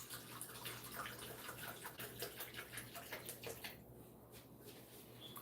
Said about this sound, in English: We're going to take some of our Tuscan pine and pour this into our container.